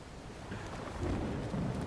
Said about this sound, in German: Wow, was für ein Gewitter.